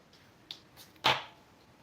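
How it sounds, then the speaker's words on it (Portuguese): Scissors snip through sewing thread near a zipper on a handmade fanny pack, giving one sharp close cut after a couple of faint handling clicks. "Aí depois a gente corta esse fio aqui"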